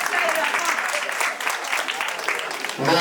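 A crowd at an indigenous communion celebration applauds as the cake is brought out, dense steady clapping mixed with voices, loud and close throughout.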